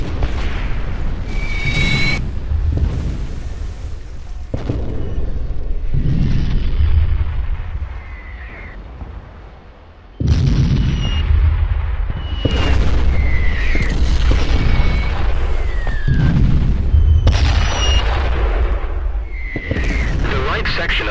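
Artillery rounds boom again and again on a Vietnam War battlefield in Men of War: Assault Squad 2, loud heavy explosions with rumbling tails, mixed with gunfire and shouted voices.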